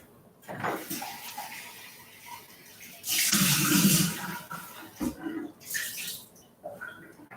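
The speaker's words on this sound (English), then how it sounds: "we're going to do 1 cup strawberries. I'm going to rinse this off." Water from a kitchen tap splashes over strawberries in intermittent bursts, with a louder rinsing stretch in the middle and quieter handling noises between.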